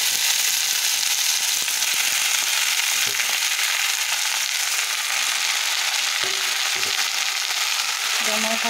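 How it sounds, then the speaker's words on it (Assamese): Panch phoron spices spluttering in hot oil, a dense, continuous crackling sizzle that fills the whole stretch, loud and close with scattered sharper pops and no talking. "এয়া মোৰ তেলত পাঁচফোৰণ মোৰ ফুটিছেই এতিয়া"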